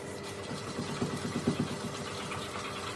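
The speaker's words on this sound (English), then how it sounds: "you can probably hear the oven going as well" A steady low mechanical hum with faint rhythmic thumping, like an oven fan running nearby, with no talking.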